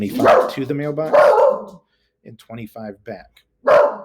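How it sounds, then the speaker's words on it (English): A dog barks and yips in short bursts close to the microphone, mixed in with a person's ongoing speech, the barks overlapping the talking rather than standing alone. "Sorry about the dog."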